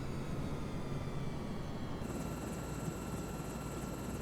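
An air crane helicopter in Microsoft Flight Simulator 2024, on an oil rig mission, gives off a dense, steady rotor and engine roar as its rotor slows, with no clear change in loudness.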